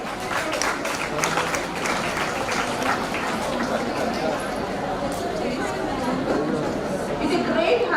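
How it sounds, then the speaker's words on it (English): Applause from a symposium audience at an academic gathering, a steady, dense clapping that carries on throughout alongside crowd chatter, loud and close. "Please come on to the dais with a big round of applause."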